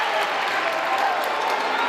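Crowd of Ottawa basketball fans at a 2016 boys' high school game, a steady wash of murmuring and jeering noise filling the gym, loud and continuous with no single voice standing out.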